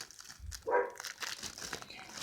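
Plastic shopping bags crinkle and rustle close by with a louder burst of crumpling near the start, then softer intermittent handling noise in a quiet market setting.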